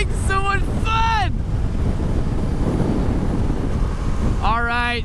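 Wind buffeting while riding a KTM RC390 sport motorcycle: a loud, constant rushing roar across the whole clip, with a voice speaking briefly at the start and again near the end.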